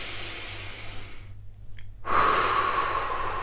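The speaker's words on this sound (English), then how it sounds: "just take a few deep breaths" A person takes a deep, breathy inhale close to the microphone, a loud airy rush after a brief quiet pause, over a steady background hum.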